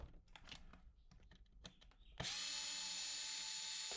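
Small clicks and handling of parts on a Dyson V10/V11 vacuum cyclone are followed by an electric screwdriver whirring steadily and loudly at close range as screws are backed out.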